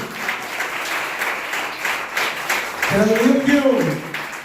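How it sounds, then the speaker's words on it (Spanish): A church congregation claps loudly and continuously, a dense crackle of many hands under a preacher's voice, with a brief sung or shouted phrase rising near the end. "Haga un aplauso al Eterno, hazlo fuerte"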